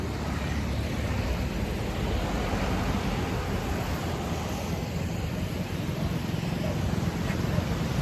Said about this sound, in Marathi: तर पूर कसा वाटतोय बघा तुम्हाला